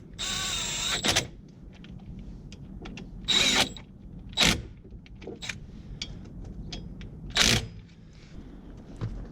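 Ratchet tightening the brake caliper bolts on a Chevy Cobalt, Pontiac G5 or Saturn Ion, with bursts of rapid pawl clicking and separate sharp clacks, close and clear with no voices.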